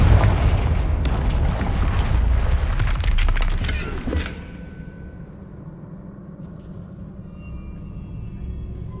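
A Confringo blasting curse erupts in Hogwarts Legacy, a loud booming explosion with shattering crackles that rumbles for a few seconds and then fades into a quiet hum.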